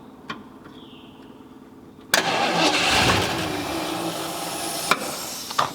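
A 1977 Ford 4x4 barn find, sitting 20 years, cranks and catches with a sudden loud start, then runs rough and uneven, with a faint whine and a few clicks before it and sharp knocks near the end.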